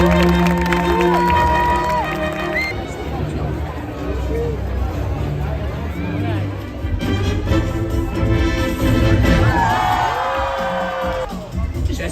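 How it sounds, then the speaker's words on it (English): A crowd at Avengers Campus in Disneyland Paris cheers and whoops through a steady wash of loud babble, with music and voices mixed in throughout. "t'as vu comme tout le monde s'est mis à applaudir?"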